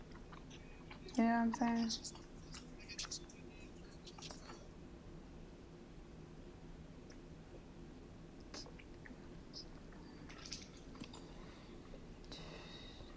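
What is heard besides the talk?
person chewing Hot Chews candy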